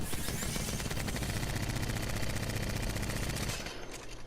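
Rapid automatic weapon fire from Apex Legends, a fast steady stream of loud shots rattling for about three and a half seconds before cutting off into quieter game ambience.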